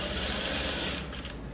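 A sewing machine stitches a seam joining pre-cut patchwork fabric blocks for a table runner, a dense continuous whirring rattle close by that eases off near the end, with no voices.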